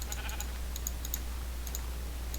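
Sheep in the Minecraft video game, with short bleats scattered through a quiet stretch alongside light clicking.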